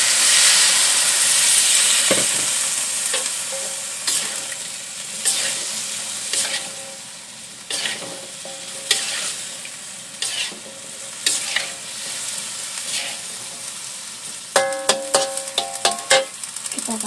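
Tempeh and clams stir-frying in a pan with garlic and ginger, a loud steamy hiss as water goes in, then sizzling under stirring, with sharp scraping clatters of a utensil against the pan near the end.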